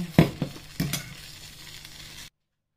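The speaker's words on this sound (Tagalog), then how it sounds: "Medyo kumukulo na." A pan of yema cake custard mixture sizzles and bubbles steadily after a few sharp clanks of a utensil stirring, then cuts to silence.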